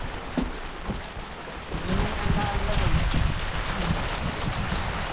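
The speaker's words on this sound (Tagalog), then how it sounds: "umulan na naman. Maulan ulit." Rain falls steadily outdoors, a dense continuous hiss of drops on surfaces that swells slightly midway and stays close and even throughout.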